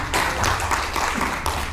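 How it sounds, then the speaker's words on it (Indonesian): Audience applause at a training-centre gathering, a steady wash of many hands clapping for about two seconds, fairly close and unbroken, with no talking over it. "tepuk tangan untuk Sunan Kalijogo"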